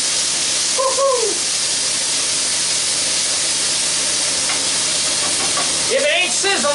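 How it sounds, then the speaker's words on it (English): Mushrooms being stir-fried in a hot wok give off a steady, close sizzle, with brief scraping stirs and a few spoken exclamations over the top. "In go those mushrooms, and right away, you want to stir up those mushrooms"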